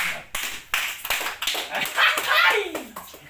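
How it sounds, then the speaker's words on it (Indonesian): Several hands clap in quick, uneven bursts at close range, mixed with lively voices of people talking in a comedic indoor scene. "Tepuk tangan."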